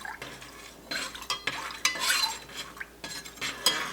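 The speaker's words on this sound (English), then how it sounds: "we are gonna stir the culture in really well." Cheese culture stirred into milk in a pot for French-style cream cheese, a series of close, uneven scraping and sloshing strokes of a utensil against the pot, with brief clinks between them.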